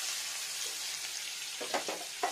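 Onions slow frying in mustard oil with chili powder in a pan, a steady soft sizzle throughout with a couple of brief stirring scrapes near the end.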